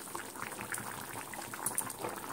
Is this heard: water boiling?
yes